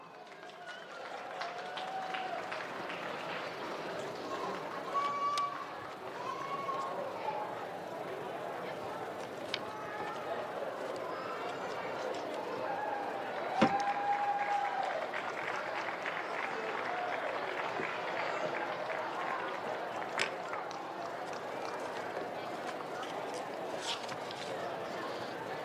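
An audience at a college commencement ceremony claps for graduating students, moderate and continuous applause that swells and ebbs over a long stretch, with talking and occasional cheers mixed in.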